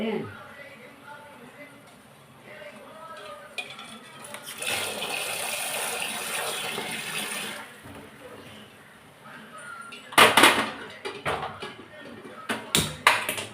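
Hot water is poured while chicken biryani cooks in a clay pot. A steady gush of liquid runs for a few seconds, followed by clinks and knocks of utensils, with voices talking around it.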